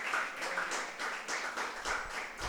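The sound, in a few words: congregation clapping in church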